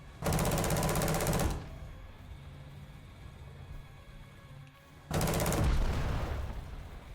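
Two loud bursts of rapid automatic gunfire, each lasting about a second, separated by a quieter stretch of low game ambience, from an XM800T in War Thunder.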